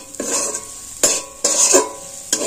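Egg and potato filling with spices being stirred in a pan, three or four separate bursts of scraping and sizzling close by between short quieter pauses.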